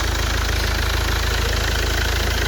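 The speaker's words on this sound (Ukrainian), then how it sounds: "Зараз звук нормальний, ну зрозуміло, зараз тиск є. Моторчик шелестить приємно." A Mercedes OM 651 diesel engine idles steadily after a timing chain tensioner replacement, a close, even low rumble with a fine rapid ticking texture and no voices.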